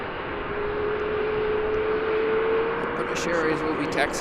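An airliner taxis at Chicago O'Hare airport, its engines producing a steady, fairly loud whine and rumble, with people talking briefly near the end.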